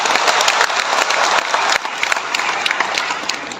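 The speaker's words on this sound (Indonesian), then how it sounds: "Tepuk tangan kita semua." An audience applauds at a regency government grant handover event, with dense, loud, continuous clapping from a crowd that fades slightly toward the end.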